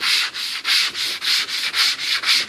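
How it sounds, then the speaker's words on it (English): Light hand sanding of a wooden clock piece, steady back-and-forth rasping strokes in a quick even rhythm, close and loud, with no talking. "And just go with a light sand."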